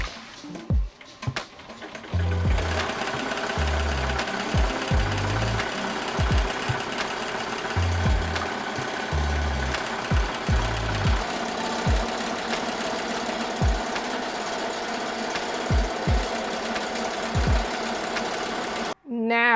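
An embroidery machine stitches with black thread from a cone, giving a steady mechanical hum with rhythmic low thumps throughout, running continuously at close range.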